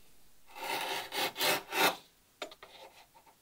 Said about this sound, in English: And we'll just use a chisel